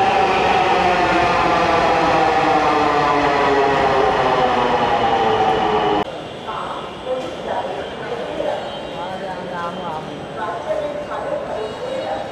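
Dhaka metro train pulls into the station with a loud, steady rumble and rising electric whine, then softens after it slows, while a voice talks nearby.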